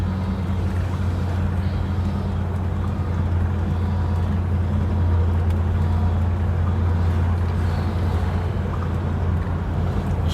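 A 1969 Ford Country Squire with a leaking power steering pump is being driven, its steady low engine drone running continuously with a faint whine, plus road and wind noise throughout.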